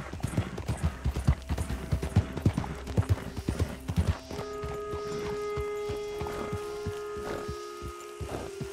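Horse hooves clip-clop in Red Dead Redemption 2, a quick, close rhythmic run of hoofbeats on the ground that eases into slower, more scattered steps while sustained musical tones rise underneath.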